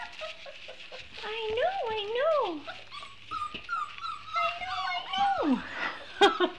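Young service-dog puppy from a litter whimpering and whining in rising, wavering cries, close by, with a person's soft encouraging talk running underneath.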